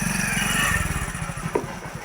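A motorcycle engine runs close by on a roadside, its low, throaty putter pulsing steadily for about two seconds with a brief sharper burst near the end.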